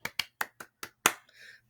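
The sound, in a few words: little hand clap rhythm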